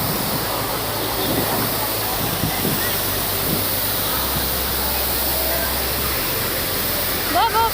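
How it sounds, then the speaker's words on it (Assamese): Cold mountain stream rushing at Tippi, Arunachal Pradesh, a steady loud broadband roar of flowing water that continues unbroken throughout, with a few faint voices in the background. "পানী পানী"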